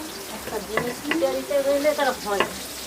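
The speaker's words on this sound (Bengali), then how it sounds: "এবারে রান্নাও চালু হয়ে গেছে পটল ভাজা হচ্ছে" Pointed gourd (potol) frying in a pan sizzles continuously while a utensil stirs and scrapes against it. A few short tonal squeaks rise over the close hiss.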